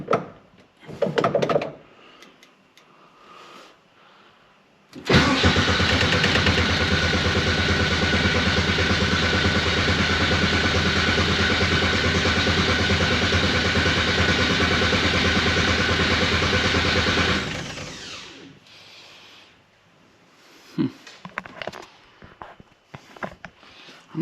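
A 1973 VW Super Beetle with a swapped-in Subaru engine cranks and catches, then runs at a loud, steady, even idle for about twelve seconds before shutting off, with handling clunks before and after.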